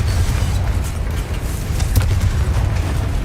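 Confringo blasting spell exploding in Hogwarts Legacy, a loud low rumbling boom with crackling bursts and a sharp pop partway through, continuous battle noise throughout.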